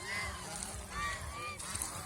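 Several domestic goose honks ring out in short bursts over a low rumbling background, moderately loud and fairly close.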